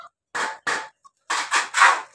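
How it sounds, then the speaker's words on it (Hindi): Rooster calling out to its hens at feeding time, a run of loud, close, raspy bursts: two calls, a short pause, then three quick calls in a row. "मुर्गा बोल रहा"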